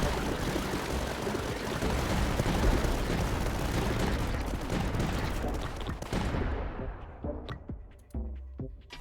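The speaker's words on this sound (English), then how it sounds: "Just a wall of bullets" Dense, continuous gunfire from the video game Tower Dominion, a roaring wall of rapid shots and booms that cuts off abruptly, leaving a few scattered quieter bursts.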